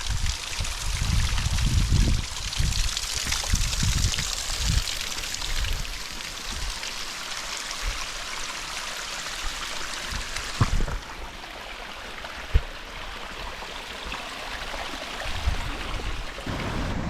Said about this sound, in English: This water running down the trail actually feels pretty good.